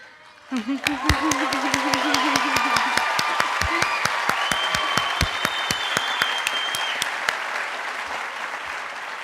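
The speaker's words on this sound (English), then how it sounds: "I'm so excited for you, and we applaud you." Commencement audience at a 2014 community college graduation applauding graduates: broad, sustained crowd clapping with sharp individual claps standing out, and a brief voice at the start.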